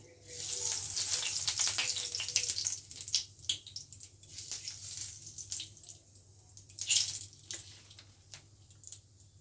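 Whole cumin seeds sizzling as they fry in oil, a hissing crackle with scattered pops and a few sharper clinks over a low steady hum, quiet and close without speech.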